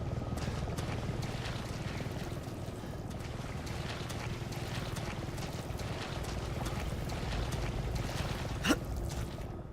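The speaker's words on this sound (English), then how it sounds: "Is that a helicopter?" A helicopter in Resident Evil 7 drones steadily in the background, a low continuous rotor rumble with engine hum, alongside a brief whoosh near the end.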